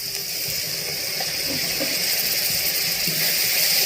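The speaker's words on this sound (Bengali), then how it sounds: "আমি অল্প একটু জল দিচ্ছি" Water poured into a cooking pan during a Bengali duck egg kosha, a steady soft hiss and gush that continues evenly for a few seconds with no talk.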